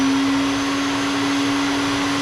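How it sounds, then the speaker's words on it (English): A vacuum dust extraction system hums steadily beside a grinding wheel used to sharpen John Deere riding mower blades, drawing off loose aluminum oxide grit; a loud, constant whine with a strong steady tone, no talk. "We've got just a vacuum system here that kind of sucks in"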